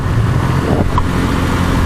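A car engine idles and rumbles through a thin skinny-pipe muffler, giving a steady low, throaty drone with a brief swell near the middle, close and loud.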